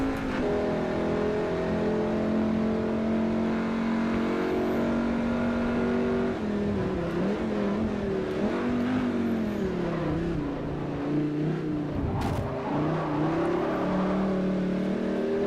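A race car in Forza Motorsport 4 on a Class C European tour, its engine droning loudly and continuously, with pitch rising and falling through shifts and revs, and no talk over it.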